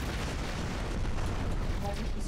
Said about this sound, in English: Now we can use the flag cannon.